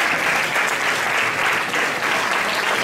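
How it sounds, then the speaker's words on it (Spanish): Loud, sustained applause from an audience as a man is invited up onto the stage at a magic show, a dense steady clapping throughout. "I fem un fort aplaudiment pel José!"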